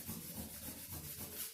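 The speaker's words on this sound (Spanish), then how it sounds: "tú estás lijando y te va rayando por atrás" Sandpaper rubbing back and forth across a metal surface in a steady, continuous scraping rhythm, close and moderately loud, with no one talking.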